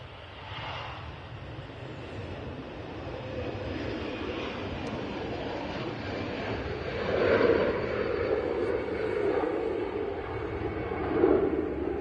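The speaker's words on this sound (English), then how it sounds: "And taking an early taxiway. We have this EasyJet A320." An EasyJet Airbus A320 taxis at Manchester Airport, its jet engines giving a steady distant roar and whine that swells slightly twice, with no talk over it.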